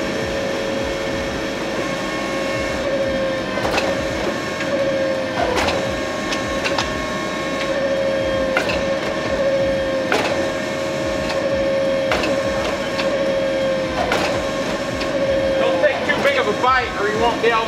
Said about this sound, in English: I'm gonna forge weld my 4-way billet so you can see what that looks like.